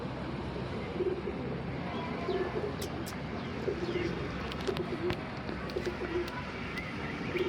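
Pigeons coo softly in repeated low calls against a constant background hiss, with a few faint chirps scattered throughout.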